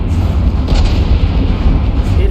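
Heavy four-barrel main guns firing in the naval combat game From the Depths, deep booming blasts rumbling continuously with a loud low-end roar and scattered sharp impacts layered over it.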